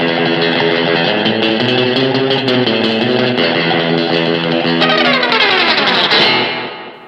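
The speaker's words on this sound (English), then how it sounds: "You can also get that really aggressive surf guitar tone from the back pickup clean sound." A Rob Williams Classic 57 electric guitar on its clean back pickup plays an aggressive, bright, twangy surf riff with heavy reverb, ending in a descending slide that fades out.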